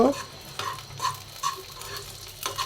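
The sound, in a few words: frying chopped nuts, cardamom, cinnamon and bay leaf in ghee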